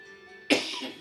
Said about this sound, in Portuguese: que eu estou com tosse hoje